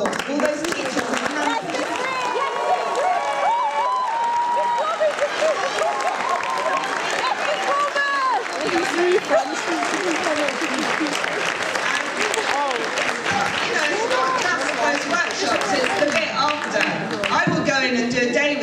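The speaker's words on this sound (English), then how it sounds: "So please could they all stand up and have a round of applause." An audience at a school speaking competition applauds teachers in a dense, sustained round of clapping. It fills the whole stretch at a steady, fairly loud level, with crowd voices mixed in.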